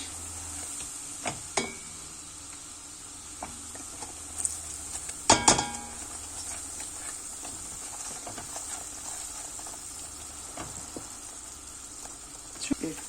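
Flour roasting in hot oil in a pan for a savory pastry filling, a soft steady sizzle with scattered scraping stirs and one sharper clatter near the middle, while someone talks briefly.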